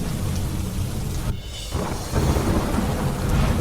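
Heavy pre-monsoon rain roars steadily with deep rumbling thunder in Gujarat, briefly easing before surging back loud and dense.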